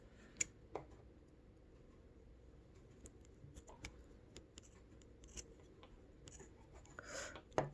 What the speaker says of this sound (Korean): 여기를 알맞은 길이로 잘라볼까요?